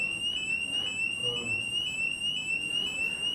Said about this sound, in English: Attention, attention. Fire alarm.